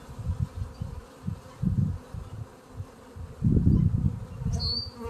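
Honeybees buzz around an open hive during an inspection, a close, uneven droning hum that swells and fades as individual bees fly near, with no speech.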